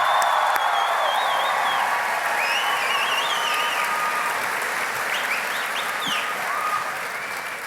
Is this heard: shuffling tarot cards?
no